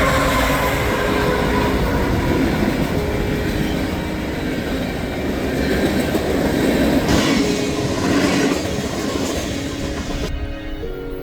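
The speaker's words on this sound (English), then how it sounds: "This is a CSX M train on its way east down the West Shore." A CSX freight train rolls eastbound past on the West Shore line, a loud sustained rumble of wheels and cars with rail clatter and faint squeal, continuing steadily throughout without talk.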